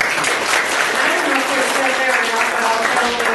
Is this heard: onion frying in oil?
no